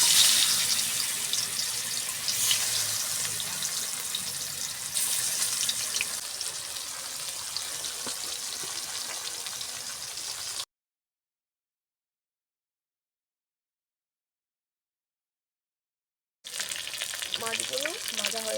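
Pangas fish sizzling in hot oil, a loud continuous hiss and crackle for about ten seconds, then a stretch of total silence before the frying sizzle resumes.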